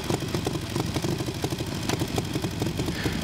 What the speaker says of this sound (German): Nach dem Ankicken muss man an der BMW R32 das Standgas einstellen.